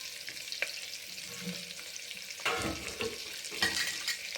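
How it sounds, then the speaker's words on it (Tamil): Onions sauté in a pan with a soft, fairly faint sizzle, broken by a few louder stirring scrapes and clinks toward the end. "வெங்காயம் வதங்கணும்."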